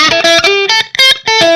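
A loud, distorted electric guitar plays choppy chords and notes through a Line 6 Pod HD500 Hiwatt DR-103 amp model with room reverb, with brief gaps and a slight room-like tail.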